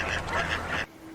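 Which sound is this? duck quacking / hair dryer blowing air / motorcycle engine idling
duck quacking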